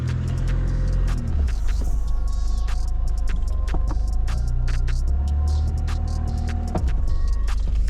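An old classic Range Rover with a 3.2 engine drives and turns, giving a loud, steady low engine rumble and drone with shifting tones throughout and no speech.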